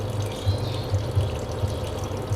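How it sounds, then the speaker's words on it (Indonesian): Water runs from an open tap beside a water meter, a continuous splashing flow with low gurgling pulses that stays steady and close throughout, with no speech. "Saya lupa nutup keran tadi."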